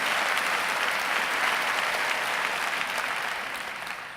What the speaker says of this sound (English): give the 2013 matriculants a round of applause